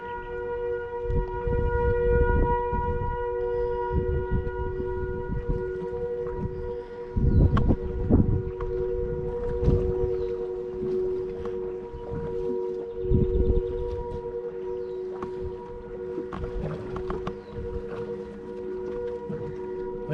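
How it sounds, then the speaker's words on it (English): Civil defense sirens sounding a tornado warning, a sustained droning wail overlapping from several sources, heard outdoors with wind buffeting and rustle on the microphone. "Listen to all them sirens."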